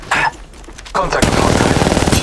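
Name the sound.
gunfire from enemies in video game Apex Legends Mobile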